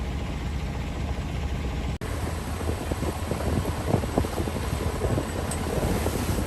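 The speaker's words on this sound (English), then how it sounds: "The wind is right into the nose, so we're just motoring at this point" Wind rushes steadily at sea aboard a sailboat motoring into a headwind off the New Jersey coast, a broad continuous roar with engine drone beneath, broken by one brief dropout near the start.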